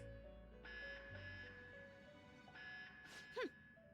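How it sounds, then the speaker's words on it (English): An electronic fusion alarm from the video game Persona 5 Royal, a repeated sustained synthetic tone in bursts over a low game backdrop, ending with a brief rising and falling sweep. "There is an alarm going off."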